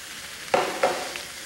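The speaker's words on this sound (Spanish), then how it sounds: "vamos a dejar que se cocine, que se fría hasta que todo el huitlacoche saque su jugo" Huitlacoche frying in a pan with epazote, heard as a soft sizzle under two or three brief scraping stirs of a utensil, close and fairly clear.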